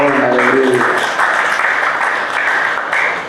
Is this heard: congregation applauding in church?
yes